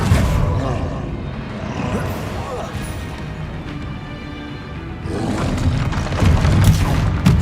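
A Confringo fire spell fired in a Hogwarts wizarding video game, heavy booming blasts and crashing impacts in loud bursts over a rumbling battle, with a voice shouting spell names.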